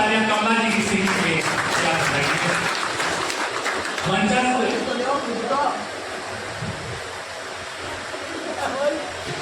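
Loud applause from the audience at a club's eye-camp ceremony in Jaipur, a dense steady wash of clapping that runs the whole stretch, fading somewhat near the end with voices murmuring underneath.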